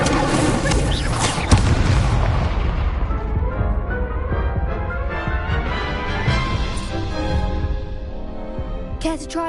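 Incendio fire spells cast in Hogwarts Legacy hit as a loud, booming burst of fiery noise followed by a long crackling, roaring decay that fades over several seconds, ending with a sharp flare.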